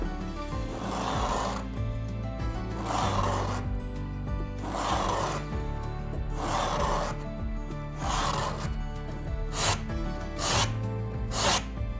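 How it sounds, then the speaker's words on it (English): A custom-made scraper is drawn along wooden molding for a gallery clock under restoration, making steady, rhythmic rasping strokes about every second, close and continuous over a low background hum. "it is simply just grabbing this and scraping"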